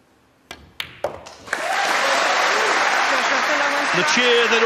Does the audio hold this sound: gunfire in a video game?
no